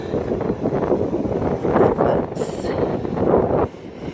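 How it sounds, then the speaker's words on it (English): Steady wind buffets the microphone on a beach at Holly Beach, Louisiana, a rough, roaring rush with gusty swells and a brief hissing burst near the middle. "but I mean, it's very windy"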